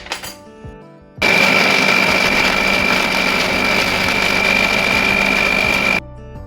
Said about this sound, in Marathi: आता आपण हे मिक्सरला फिरून घेऊया